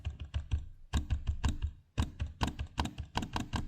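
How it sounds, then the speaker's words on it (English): The glass trackpad on a Lenovo Legion 7 gaming laptop gives quick, rattly clicks, some in close clusters and some alone, heard up close and fairly faint. "mine came with this very rattly noise on the left side"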